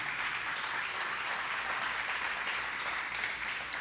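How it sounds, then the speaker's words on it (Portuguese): A church congregation applauds during a sermon, a steady, evenly dense roar of many hands clapping that holds at a constant level throughout with no voice on top. "Você pode dar um aplauso ao Senhor por isso?"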